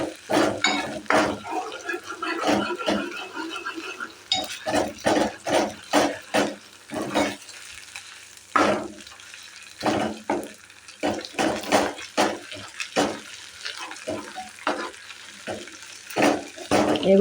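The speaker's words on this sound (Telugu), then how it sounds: "అల్లం చిల్లిపాయ వేయించినప్పుడు జాగ్రత్త అండి, ఆయిల్ పడుతుంటుంది" Ginger and onion fry in hot oil while a utensil scrapes and stirs the pan in frequent irregular strokes, a soft sizzle running underneath the close, rhythmic clatter.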